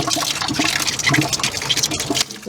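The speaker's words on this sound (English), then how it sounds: "Go turn on that water for me, would you, buddy?" Water rushes steadily through the flush port of a skiff's outboard motor, a loud continuous hiss and gurgle lasting a couple of seconds before easing off at the end.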